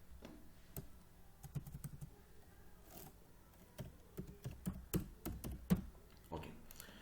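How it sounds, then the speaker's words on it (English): Someone types on a computer keyboard, producing soft, close key clicks in short irregular bursts that grow denser toward the end, with no talk. "so I type satisfaction here."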